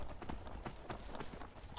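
A horse's hooves clip-clop steadily at a walking pace in the Skyrim video game, a close, even sequence of muffled thuds over a soft background.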